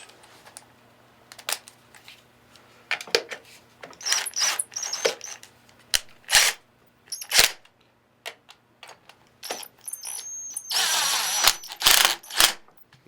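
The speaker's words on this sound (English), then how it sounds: "I'm going to take my impact and lightly tighten them." An impact wrench lightly tightens the nuts on the through bolts of an Aqua-Flo hot tub pump during a bearing replacement, giving repeated short rattling bursts up close between quiet pauses and small mechanical clicks.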